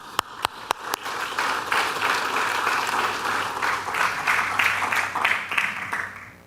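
An audience breaks into applause to welcome speaker Karthik Ramani, a few sharp individual claps at first swelling into steady, sustained clapping from a moderately sized crowd.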